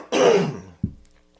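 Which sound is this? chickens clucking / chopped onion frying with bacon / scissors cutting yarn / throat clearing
throat clearing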